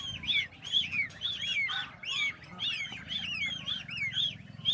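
Young ducklings on a farm, one of them apparently paralysed, peep in rapid, continuous high chirps nearby. The overlapping calls ride over a low background hum.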